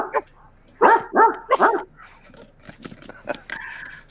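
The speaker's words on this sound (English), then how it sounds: "There's my dog." A dog barks several times in quick bursts, close and loud, followed by softer whimpers and yips with a voice nearby.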